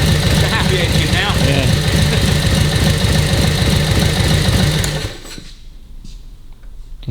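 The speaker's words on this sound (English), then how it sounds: "it's a happy engine now" A freshly serviced motorbike's small engine idles steadily with a rapid, even chugging, then cuts back sharply to near quiet, with a brief rev at the very end.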